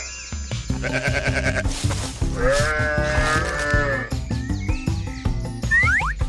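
A goat bleats in a wavering, drawn-out call, heard over steady upbeat background music with no talking.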